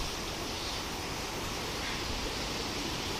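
Ganges floodwater surging past Scindia Ghat in Varanasi during the 2022 high flood, a steady, loud broadband roar of rushing water that holds unbroken throughout, with no voices.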